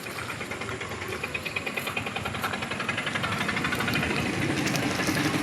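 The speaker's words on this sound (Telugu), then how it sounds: "ఇది ఇంజన్ సార్" Diesel engine of a 2017 Maruti Ertiga ZDi Plus, heard up close as a loud, steady clattering idle with a rapid rhythmic knock that builds slightly toward the end, with no talking.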